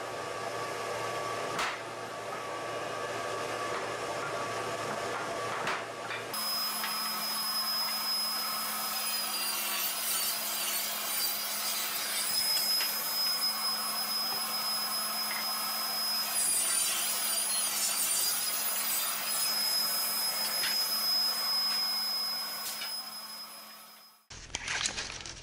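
Rough pallet wood runners are milled into dimensional lumber with a power tool, a loud sustained whine and rushing roar that kicks in after a quieter start and then stops abruptly near the end.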